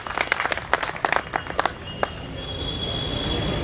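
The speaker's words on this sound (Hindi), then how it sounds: "आप ताली बजाओ तो मैं हटूं यार" Scattered applause from an audience at a poetry gathering, a burst of claps in the first two seconds that thins out into a low hum of the room.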